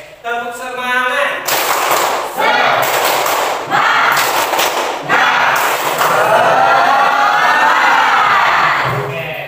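Standing vocational high school students in a classroom perform a loud rhythmic spirit clapping routine, bursts of fast group claps broken by short pauses, with shouted voices and cheering mixed in throughout.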